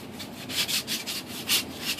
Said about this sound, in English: I'm just basically rubbing that sharp edge there